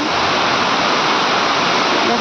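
Heavy morning rain pours steadily beside a veranda, a dense, loud, unbroken hiss of falling water filling the whole stretch with no pauses.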